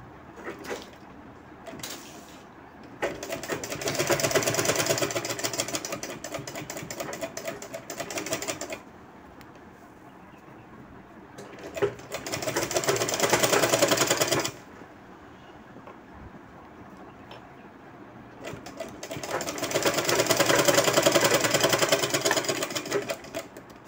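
A sewing machine stitches a cut work saree blouse in three long runs of fast, steady mechanical whirring, separated by quieter pauses, close and fairly loud.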